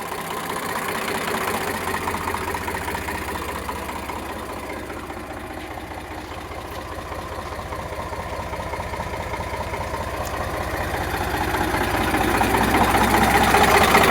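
An Eicher 368 tractor engine idles steadily, a close continuous low diesel rumble with faint knocking vibration that rises a little in loudness toward the end, no voices.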